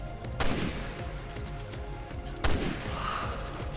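Sniper rifle shots in Resident Evil Revelations 2 Raid Mode, two sharp booming reports about two seconds apart, each over a constant game background rumble.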